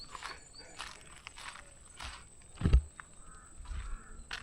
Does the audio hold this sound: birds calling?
yes